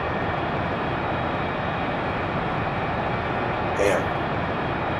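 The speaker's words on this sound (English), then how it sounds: "oh, that is a sharp turn for this plane" Airplane engine in a video game as the plane banks into a sharp turn: a steady, dense roar runs throughout, with a brief brighter swell near the end and faint talk underneath.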